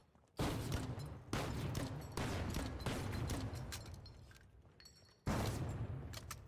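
Explosive grenade thrown in the shooter game The Finals, several loud booming blasts in succession with a sharp burst at the start and another near the end, dense gunfire-like crackle throughout.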